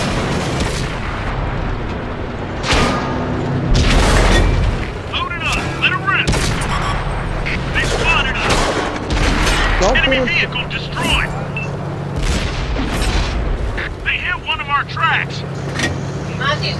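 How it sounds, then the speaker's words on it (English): Artillery shells fire and explode in the World of Tanks video game, heavy booming blasts and crackling gunfire hitting repeatedly through the clip over engine rumble, with someone talking throughout. "The artillery's got a beat on my ass."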